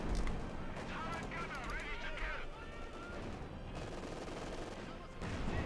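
DP light machine gun firing in a Company of Heroes 2 battle, dense rattling bursts among other gunfire and artillery in a busy combat mix, with a voice talking over it.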